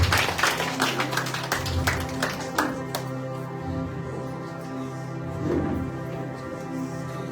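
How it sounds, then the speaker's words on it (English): An audience claps hands at a Sunday evening church retreat in Margao, Goa, with a dense burst of applause at the start that thins into scattered claps, while sustained music plays under it. "can we clap hands for Kevin for Vivek and for David"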